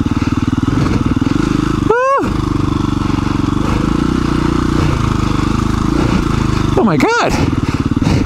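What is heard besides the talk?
dirt bike riding over rocks on a trail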